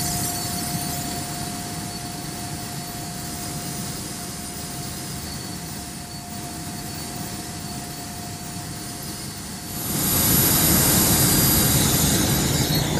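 A SubSonex small jet aircraft on landing approach, its jet engine giving a steady whining roar with a thin constant tone, then swelling louder and brighter near the end as the thrust rises; no talk over it.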